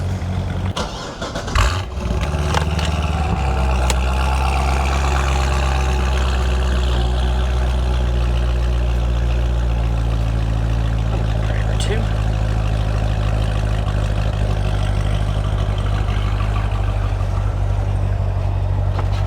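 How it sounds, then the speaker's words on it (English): A 2007 Corvette Z06's LS7 V8 cranks and fires with a brief burst, then settles into a loud, steady, deep idle rumble that continues unbroken, close to the car. "Now the startup of the LS7 sounds so good."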